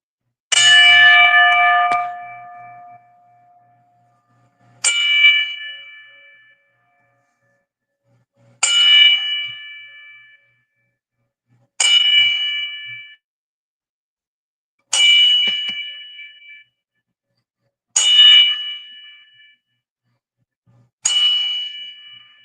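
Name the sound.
ten bell salute, bell rung ten times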